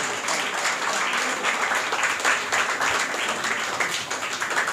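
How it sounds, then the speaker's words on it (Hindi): Audience applause fills a school speech competition and Teachers' Day program, a dense, steady wash of clapping that holds at a loud level for about five seconds with no talk over it. "तालियों में वो आवाज़ होनी चाहिए।"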